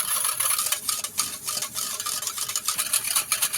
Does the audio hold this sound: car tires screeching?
no